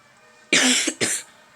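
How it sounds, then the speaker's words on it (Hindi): Two sharp, loud coughs close to the microphone, one right after the other, with near silence before and after. "मुझे खांसी है थोड़ी सी"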